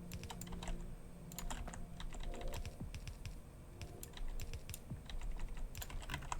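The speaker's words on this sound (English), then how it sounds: "And I'm clicking everywhere right now." Steady rapid clicking from a computer mouse and keys while playing Factorio, continuous and close over a low background hum.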